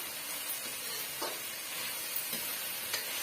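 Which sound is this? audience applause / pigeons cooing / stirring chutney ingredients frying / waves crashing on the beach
stirring chutney ingredients frying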